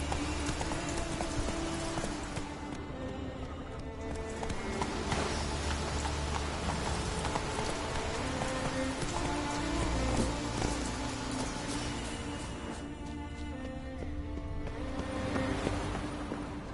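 Geralt's horse Roach gallops in The Witcher 3: Wild Hunt, with dense, continuous hoofbeats pounding close and loud over a wash of rain-like background noise.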